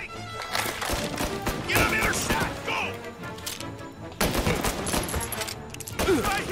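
Rapid bursts of gunfire in the Mafia: Definitive Edition video game, with repeated sharp shots and clattering volleys arriving in clusters, while someone speaks over parts of the exchange.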